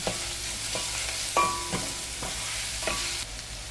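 Green chillies sauté in hot oil over a medium flame for a potato masala, a constant sizzle punctuated by regular spoon knocks and scrapes against the pan, with no talking.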